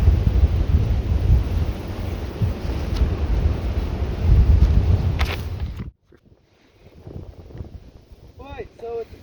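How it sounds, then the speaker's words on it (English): Heavy wind buffets a microphone outdoors with a loud, rumbling roar for about six seconds, then drops off abruptly, leaving quieter gusts and a voice speaking. "it's a tad windy out"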